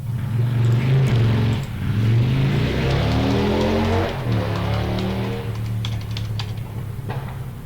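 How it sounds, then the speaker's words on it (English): A Harley motorcycle engine outside rumbles loudly and steadily, revving up and down in sustained throaty swells for several seconds, with faint clicking on top. "Somebody with a Harley is deciding to do some reckless stuff."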